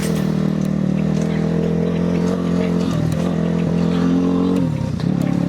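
A small off-road vehicle climbs a dirt road, its engine droning steadily at close range with a brief dip in pitch near the end, as the load shifts on the incline.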